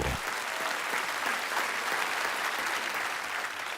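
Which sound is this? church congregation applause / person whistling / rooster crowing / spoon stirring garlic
church congregation applause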